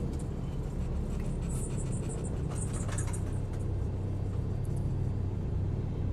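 Steady drone of a simulated Cessna 172 piston engine idling while taxiing, a constant low rumble with airy whir that holds evenly throughout.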